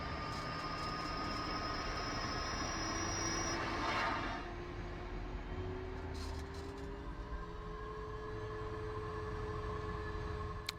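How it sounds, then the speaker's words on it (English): Learjet 35A jet engines spooling up during a cold-and-dark start in the Prepar3D flight simulator, a steady rising whine with climbing tones over a constant low rumble, heard alone. "I can also adjust my P3D volume so that you can hear the engines."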